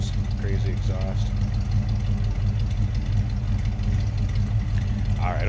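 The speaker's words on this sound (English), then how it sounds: "hear that 327. Nice sounding engine. There you go, dual exhaust, so rumble coming out of it" A 1968 Chevrolet Camaro's 327 V8 engine with dual exhaust and mild cams idles with a steady low rumble throughout, and a person talks over it.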